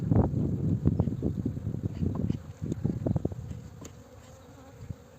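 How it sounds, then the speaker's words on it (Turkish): Busy insect buzzing, many bees humming close by with soft irregular bursts as they feed on crystallized honeycomb, no voices. "arı tek tük üstünden balı almaya başlamış"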